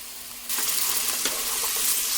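Vegetables and onions for a veggie rice soup cook in a pot over medium heat, a steady bright sizzle starting abruptly and holding loud and close with faint clinks, no talking.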